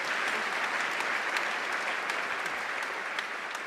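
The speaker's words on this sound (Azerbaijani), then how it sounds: "onları alqışlayın." A seated audience claps warmly at a concert of the Ashiq Pari gathering, dense sustained applause filling the hall at steady loudness throughout.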